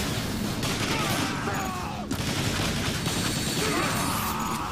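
Dense, continuous gunfire and explosive impacts from the War for Cybertron video game, loud and unbroken throughout with crashing bursts layered over a busy battle soundscape.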